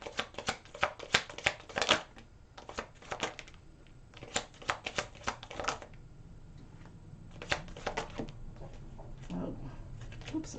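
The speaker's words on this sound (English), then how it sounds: "Let me take out the rest of these cards for the second part of this reading" Tarot cards being shuffled and drawn by hand at close range, with crisp rapid riffles and flicks in quick clusters, then softer sliding and tapping of cards as they are laid out.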